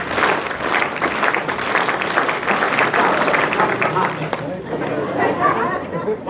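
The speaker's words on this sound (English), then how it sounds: "Everybody clap, clap." An audience claps together at a talk, a fairly loud, uneven burst of many hands mixed with crowd chatter that thins out and fades toward the end.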